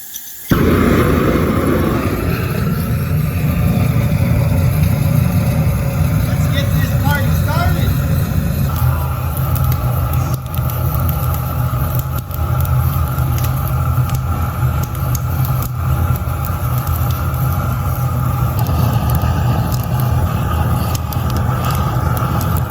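An old Power King tractor engine, cold and warmed with a weed burner, catches right at the start and settles into a steady, loud, rough idle that rumbles unbroken for over twenty seconds.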